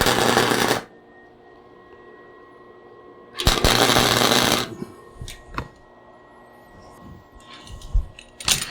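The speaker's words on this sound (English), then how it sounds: "I'm going to put me a tack weld here, and then a tack weld there" Two loud bursts of flux-core welding as tack welds are struck on steel over a brass backer, each crackling buzz lasting about a second, separated by quiet and followed by scattered clanks and handling noise.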